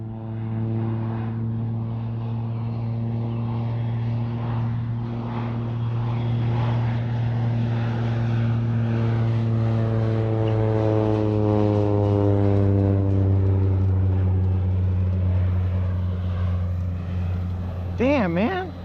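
A full-size propeller airplane flies close by the field during an RC Cessna 182 flight, its steady droning engine growing louder as it nears and sweeping in pitch as it passes. A voice is briefly heard near the end.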